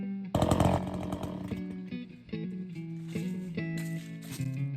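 An Echo CS400 chainsaw roars into an old, hard stump, its engine loud and close, then drops and rises in pitch as the cut load changes.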